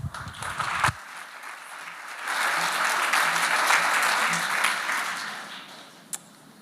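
An audience at the 2019 Age Well Summit breaks into applause welcoming speaker Claire Cruse, a dense burst of clapping that swells, holds for several seconds, then fades out.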